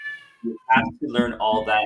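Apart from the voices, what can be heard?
cat meowing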